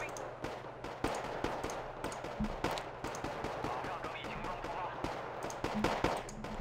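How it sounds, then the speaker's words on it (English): Artillery barrage in the real-time strategy game Wargame: Red Dragon, a steady stream of overlapping gunfire and distant blasts rumbling continuously, dense and moderately loud throughout. "we'll go ahead and hit them with our artillery"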